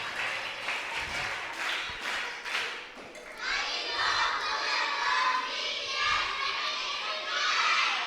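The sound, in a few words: audience applause for the teachers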